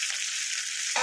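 A fish head frying in hot oil in a pan, a continuous hissing sizzle, close and steady, briefly swelling near the end.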